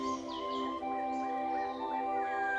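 A Malabar whistling thrush sings in the forests of Silent Valley in the Western Ghats, clear rising and falling whistled phrases ringing out over a steady, droning background of other birds and insects.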